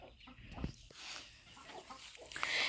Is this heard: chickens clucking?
yes